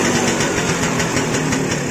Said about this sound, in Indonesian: Kalau RPM-nya dari lama itu langsam deng-deng-deng kayak gini